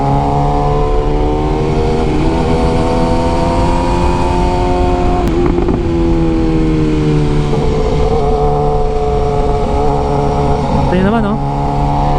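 BMW S1000R motorcycle fitted with an Akrapovic exhaust, engine running loudly and steadily with shifting harmonic pitch as it revs, close by throughout with no break in the sound.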